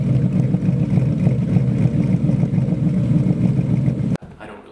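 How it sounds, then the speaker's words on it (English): A Ford Mustang with a modified intake, tune and loud aftermarket exhaust gives a loud, steady engine rumble with a deep exhaust drone, holding constant for about four seconds before cutting off abruptly. "It's got a really loud exhaust."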